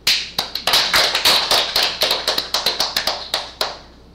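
Hands clap in a quick, slightly uneven run of about twenty sharp, close claps over roughly four seconds, each one crisp and separate, ending on a final clap that rings out briefly.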